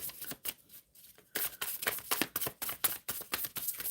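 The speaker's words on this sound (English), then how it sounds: "Shuffling for Rezia." Tarot cards being shuffled by hand, a rapid run of crisp papery riffles and slaps in quick bursts, close and alone with no talk.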